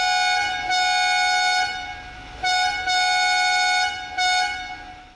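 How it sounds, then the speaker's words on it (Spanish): A Ferrari 456 V12 sports car's loud, bright horn blares three times in long blasts with short gaps, its tone rich and brassy, heard up close with no talking. "el sonido del claxon, que, bueno, escúchalo tú mismo"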